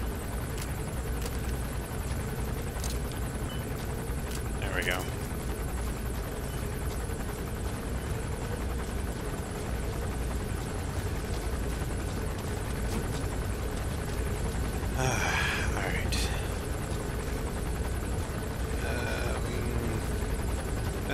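A helicopter in Metal Gear Solid V passes overhead as a steady, continuous rotor drone, fairly loud and unbroken throughout, with a few brief higher chirps of other game sounds on top.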